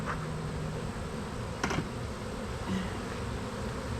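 Honey bees buzz in a steady low drone throughout a weekly hive inspection, with a brief sharper burst partway through as a bee passes close.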